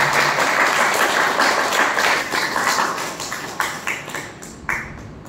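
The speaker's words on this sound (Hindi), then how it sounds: "आप सभी आए हैं तो आप अपने लिए जोरदार तालियां बजाइए" An audience gives loud, sustained applause that gradually thins into scattered claps toward the end, with no talking over it.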